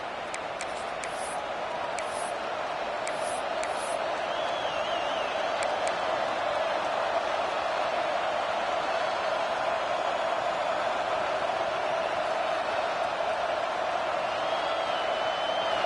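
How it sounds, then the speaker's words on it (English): Stadium crowd in a college football video game roars steadily and loudly throughout, a dense continuous wash with faint whistle-like tones and brief sharp accents on top. "And with this place rocking, the crowd forces a false start."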